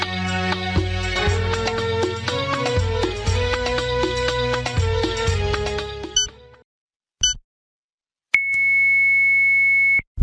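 A broadcast beep signals iftar time in Mauritius: a steady, pure electronic tone holds for under two seconds after music ends and a short silence.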